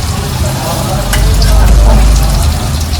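Loud, steady sizzling of onions frying in a hot pan, with occasional stirring scrapes and crackles throughout.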